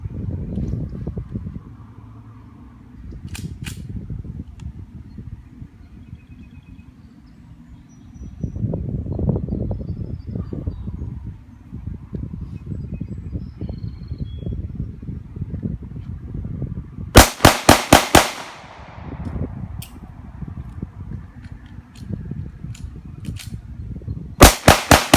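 A Springfield Armory XDS .45 pistol fires two rapid strings of sharp shots, each emptying a magazine, with a quiet stretch between for the magazine change; outdoor range with wind noise in the background.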